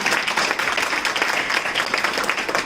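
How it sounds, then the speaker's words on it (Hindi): An audience applauds at a welcome ceremony for a women's police station SHO and a newly elected Sindhi Central Panchayat president, with dense, steady clapping filling the whole stretch at even loudness and no voice heard over it. "जोर से तालियां बजें।"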